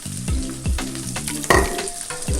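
Ginger, garlic and scallion stir-fry in hot oil in a home kitchen, a loud continuous sizzle with rhythmic scraping stirring strokes and one sharper burst of spatter midway.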